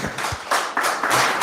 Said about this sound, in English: I hope you could hear the applause here, which is very well earned for the both of you